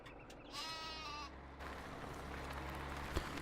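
Sheep bleating in a farming video game, a single quavering bleat up close, followed by a broad steady hiss of game ambience.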